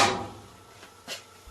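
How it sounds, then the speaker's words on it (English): Door of a Performa clothes dryer opening, a soft latch click followed by a second brief clunk about a second later, close and fairly quiet in a still room. "open the door on the dryer."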